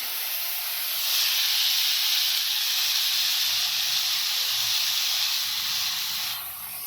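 A grated ingredient drops into hot ghee for a fasting-day halwa and sizzles with a loud, steady hiss that holds for about five seconds, then fades.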